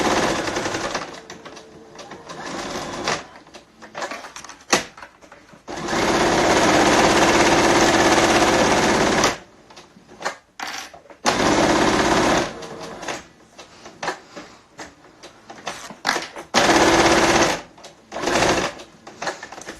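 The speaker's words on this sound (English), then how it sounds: "So let me put you over on the machine here. Now, I'm an extremely fast sewer." Fast, loud bursts of a sewing machine stitching fabric face masks, running in several long sustained runs broken by short pauses and brief stops, with no voices over it.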